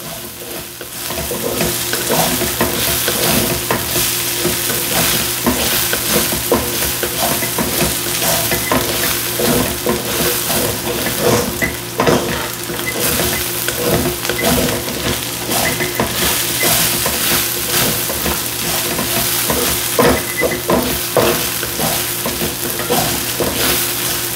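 Beef and broccoli stir-fried over a high flame, a loud, dense, continuous sizzle with rapid scraping and tossing from a flat-edged tool, close and unbroken throughout with no talking.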